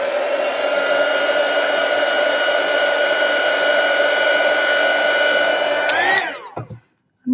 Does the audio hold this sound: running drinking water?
no